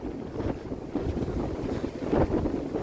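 Strong gusting wind of Storm Dudley rushing through an ancient woodland, a steady roar with buffeting against the microphone and no talking.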